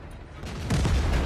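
Tank gun fire in World of Tanks from a Lorraine 40 t, a loud, close booming shot that swells and rolls on for about a second.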